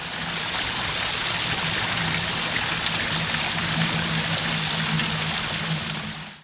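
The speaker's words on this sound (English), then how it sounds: "This is the strongest waterfall in the area" Strong woodland waterfall in East Sussex pours in a steady, full rush of water, close and constant with a low underlying drone, fading at the very end.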